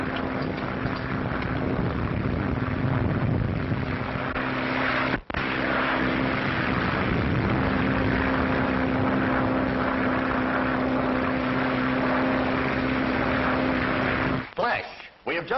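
A propeller airplane drones steadily through a storm over the Atlantic as a radio drama effect, a continuous loud engine hum with a brief cut near five seconds and breaking up at the end.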